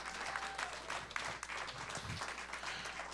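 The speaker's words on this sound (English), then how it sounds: "Let's go ahead and have a big hand for those guys who've made tonight really special." Audience applause at a televised fundraiser event, steady sustained clapping from a crowd throughout, moderately distant and fairly soft.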